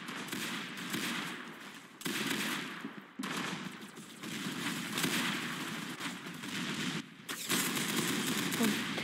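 Rapid automatic gunfire from a Roblox Arsenal match, dense bursts of shots running almost continuously with brief gaps, loud and close.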